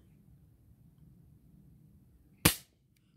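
A single sharp crack of a Diana P-Five 4.5 mm spring air pistol firing, loud and abrupt against a quiet low hum, decaying quickly.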